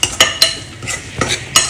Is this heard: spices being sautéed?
yes